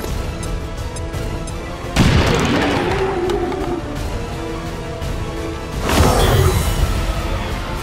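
Two heavy, booming grenade explosions in XCOM 2 combat, the first followed by a lingering roar, the second a few seconds later, over continuous loud game ambience.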